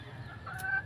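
A hen clucking in a farm breeding area, a short close cluck over steady low background noise.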